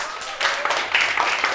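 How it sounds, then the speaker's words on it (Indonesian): A crowd applauds, with scattered clapping that picks up midway and holds steady, with some voices mixed in underneath. "Dan tepuk tangan untuk Oci."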